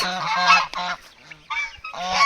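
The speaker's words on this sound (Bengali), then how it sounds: "এগুলো চাইনিজ রাজহাঁস।" Close, loud honking from Chinese geese at a farm, a few harsh calls in bursts separated by a brief lull, with no voices present.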